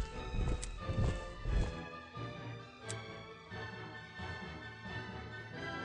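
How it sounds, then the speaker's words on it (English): Three heavy hoofbeats clop close by in the Panzer General II war game, followed by a quieter stretch of low game tones. "Horse, yeah, horse."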